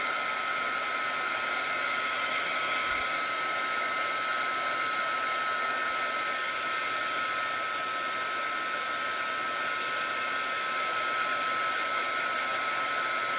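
A heat dryer blows steadily and loudly close by for the whole stretch, drying a glued napkin layer on a Bible journaling page, with no talking over it.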